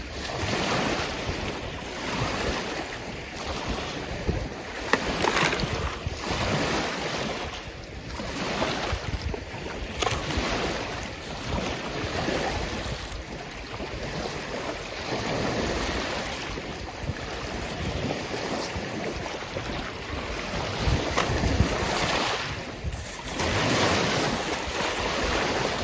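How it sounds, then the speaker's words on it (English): Waves wash steadily onto a Lake Michigan beach, a continuous broadband surge with rhythmic swells under heavy wind buffeting the microphone, with no talking. "The waves are starting to come in now."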